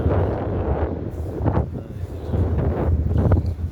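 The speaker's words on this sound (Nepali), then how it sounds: "चिसो हावा चल्छ एकदमै" Cold wind blowing outdoors on the trek toward Khime, a steady broadband rush buffeting the microphone with rising and falling gusts throughout.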